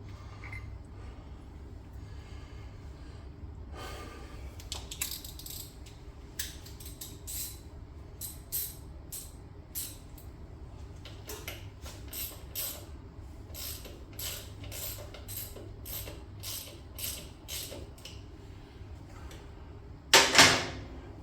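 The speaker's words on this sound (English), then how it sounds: "Get a 15mm socket and quit screwing around with that." Bolt being loosened with a 15mm socket wrench on a 1968 BSA Thunderbolt 650 motorcycle, a long run of quick ratcheting clicks and creaks in bursts, close by, with a louder clatter near the end.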